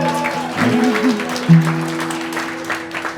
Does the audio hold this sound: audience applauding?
yes